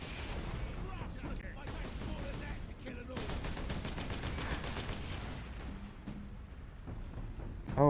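Rapid video game gunfire rattles in dense, continuous bursts, with sustained automatic fire and sharper volleys layered over a busy game soundtrack.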